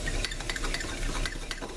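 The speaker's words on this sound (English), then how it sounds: "I'm just going to take a fork and whisk that together so it is good and combined" A fork whisks flour into milk in a bowl, a rapid, dense scraping and ticking against the dish for the whole stretch, close and steady.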